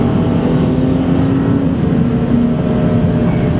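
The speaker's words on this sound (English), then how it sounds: "because we love to advertise the acceleration of some of our cars" A BMW 335ci accelerates hard, its engine giving a loud, sustained roar that holds its gear steadily throughout, heard from inside the car with no talking.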